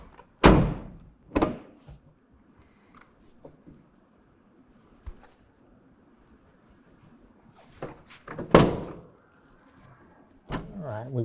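The tailgate of a 2024 Ford Ranger fitted with a BakFlip MX4 hard folding tonneau cover shuts several times. Each close is a sharp, close thud, with quieter clicks and knocks between them.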